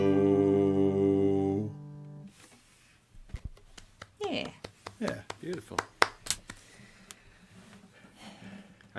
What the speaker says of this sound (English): trying to duplicate my claps and create a bigger sound from a single person clapping